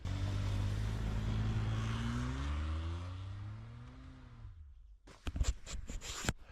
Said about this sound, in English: Turn on all-wheel drive, turn off traction control, and give it lots of gas.